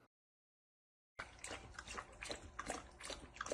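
A dog laps water from its new water bowl, with rapid wet slurping and splashing close by after a brief silence.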